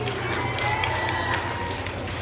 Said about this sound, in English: Congratulations to the winners. Let's give them a big round of applause.